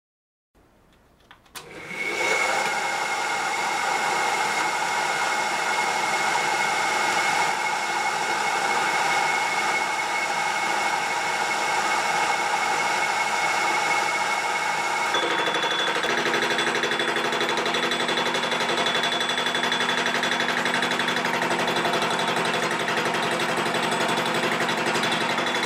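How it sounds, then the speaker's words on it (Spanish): A homemade metal lathe starts up and runs, its motor whine rising quickly to a loud, steady buzz, then the tone shifts partway through as the cutting tool bites into the metal. "Estaba arrancando metal de esta parte que está toda pedorra."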